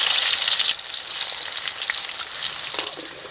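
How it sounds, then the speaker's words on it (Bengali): Chopped onions fry with whole cumin in hot mustard oil, giving a steady loud sizzle that eases slightly after the first moment and carries on evenly with small crackles and no talking. "পেঁয়াজটাকে এখন ভেজে নিচ্ছি"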